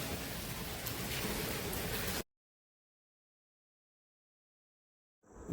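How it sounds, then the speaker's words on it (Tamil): Steady hissing rain pours on a boat outing for about two seconds, then cuts to complete silence before a brief burst of noise returns at the end. "மழை பெஞ்சிக்கிட்டே இருக்குது"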